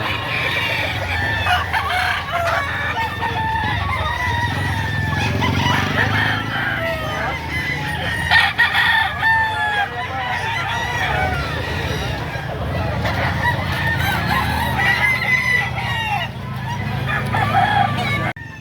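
Roosters and hens at a poultry market behind SM Lipa in Batangas crow and cluck continuously, many birds layered into a dense, busy din. People talk in the background throughout.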